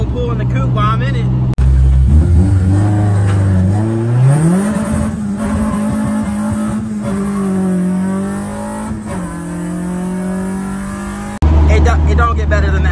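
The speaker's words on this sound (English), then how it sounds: "I might as well pull over and do a pull in the coupe while I'm in it." A Subaru WRX coupe with a front-mount intercooler revs and accelerates hard, pitch climbing through gear shifts, loud and close, with a voice audible before and after the pull.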